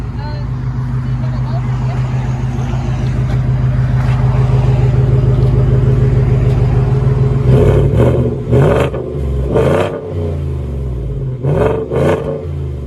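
A 2020 Ford F-150 with a 5.0-liter Coyote V8 and side-pipe exhaust with dual tips rumbles steadily and loud, then gives several short sharp revs near the end. Someone speaks over the engine.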